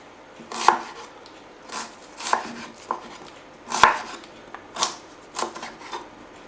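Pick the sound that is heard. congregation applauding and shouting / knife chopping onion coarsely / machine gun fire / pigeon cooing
knife chopping onion coarsely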